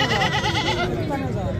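A goat bleats loudly and close by at a goat market in Dera Ghazi Khan after rain, a single wavering call with another animal sound and a voice mixed in.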